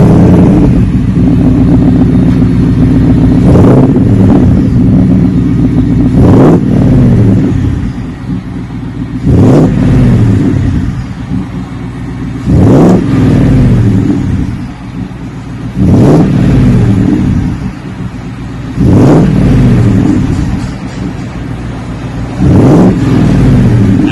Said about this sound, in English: Nice and clean with a nice Magnaflow Wide Open mufflers, the dual in, dual out with a built-in X pipe.